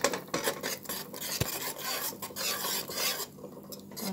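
Grated white cheese and tasty cheese are stirred together in a pot, giving a soft, continuous rasping and scraping of a utensil through the shreds, quiet and close, with no voices.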